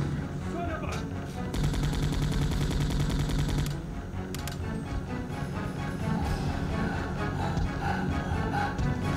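Gunfire in the Resident Evil 2 video game, with repeated rapid shots and a steady burst of firing amid dense game sound effects and music, loud and continuous throughout.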